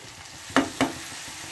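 Tomatoes going into a dhaba-style carrot, pea and potato sabzi, giving two quick sizzling splashes about a quarter second apart over a low, steady frying hiss.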